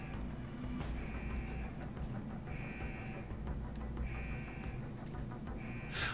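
Repeating electronic alarm tone from the Deus Ex video game, sounding in regular pulses about once per second over a steady low background hum, continuing throughout.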